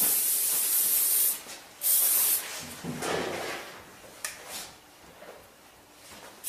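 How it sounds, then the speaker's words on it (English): Spray bottle misting a young boy's straight hair after a clipper haircut, with a few short hissing bursts separated by brief pauses in a quiet room. "Then I always like to finish by spraying it."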